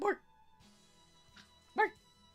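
A puppy gives two short, close yips or barks, one at the start and one near the end, with a quiet room and faint background tone between them.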